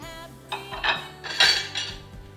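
Pecan nuts and raisins are stirred in a pot for Mexican Christmas punch, giving several clinks and scrapes of a utensil against the container in uneven bursts, close and fairly loud, with no talking.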